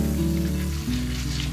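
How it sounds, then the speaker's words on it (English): Chopped onion sautéing in hot palm oil sizzles steadily and loudly up close, a continuous crackling fry with a faint low hum beneath. "I added some chopped onion into the palm oil. I sauteed this for about 2 minutes"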